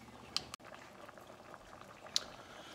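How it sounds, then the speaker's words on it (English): Brazilian fish, shrimp and mussel stew simmering on low heat, a faint, soft bubbling with a couple of small clicks and taps, no voices. "So we've got it simmering here on low temperature."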